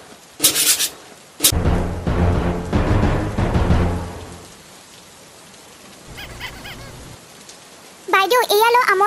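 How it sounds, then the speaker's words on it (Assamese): Heavy rain pours in an Assamese cartoon, rising in a loud burst and then easing off, with short stretches of a voice and other speech before and after. "ইমান ডাঙৰ বৰষুণ গোটেই ৰাতিটোৱে বৰষুণ দিছে"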